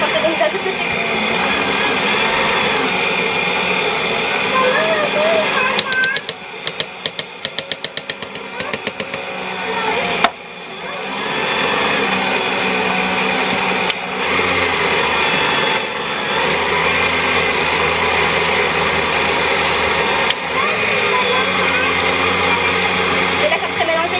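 An electric mixer whirs continuously as it creams butter and sugar for red velvet cookies, a loud steady motor hum with brief stutters partway through and a voice speaking over it.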